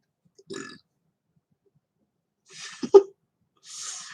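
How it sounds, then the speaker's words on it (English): A loud, close belch from a person in a quiet room, a single throaty burst of about a second, with brief breathy sounds just before and after it. "I just belched all over YouTube"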